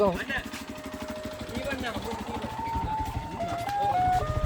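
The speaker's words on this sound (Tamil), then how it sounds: "பனிஸ் வண்டி போய் கொண்டிருக்கு பாருங்க" A bun vendor van rolls through a Jaffna village, its looping electronic jingle melody ringing out over a running engine, with people talking nearby throughout.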